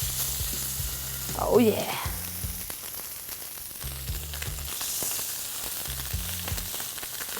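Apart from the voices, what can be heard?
steaks sizzling in olive oil in a pan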